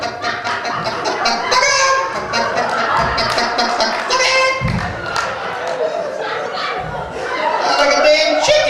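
A comedian's voice imitates a chicken, clucking and squawking loudly and continuously in rapid rhythmic bursts, with low thuds and crowd noise around it.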